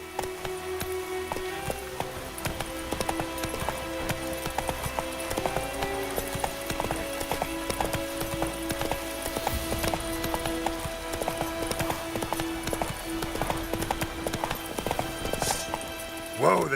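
Roach, a horse in The Witcher 3, trots along with steady, close clip-clopping hooves that run continuously under a bed of game music and ambience, a rider's voice speaking over them.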